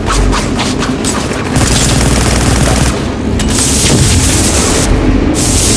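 Grenade explosions and gunfire from a Warhammer-style online video game fill the scene with loud, continuous blasts and rattling shots. Dense booms overlap throughout with no pause.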